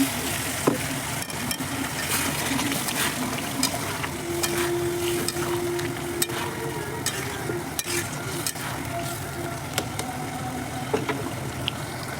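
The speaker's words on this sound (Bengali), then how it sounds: "এর মধ্যে আমি এখন এই যে গরম জল করে রেখেছিলাম এই যে গরম জল দিয়ে দেবো" Hot water poured over frying potatoes and eggs sets off a loud, steady sizzle that runs without a break, dotted with sharp pops and spatula clicks, close up with no talking.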